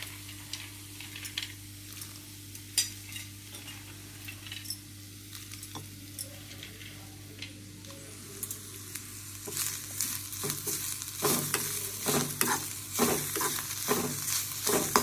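Peanuts and sliced bitter gourd roast in a hot pan, a soft sizzle punctuated by repeated scraping stirs that grow louder and busier toward the end, close by with no talking.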